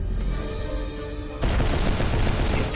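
Gunfire and screams break out in a Cyberpunk shopping area, a dense burst of rapid shots crashing in loud and sustained after a quieter ambient stretch with no talk.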